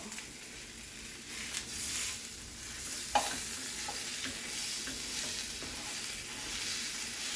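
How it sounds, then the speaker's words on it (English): Beef and onion browning in a frying pan, a steady sizzle broken by the scrape and knock of stirring, with one sharper clack midway; close, moderate level, no talking. "let's start with some beef and onion in the pan to brown up"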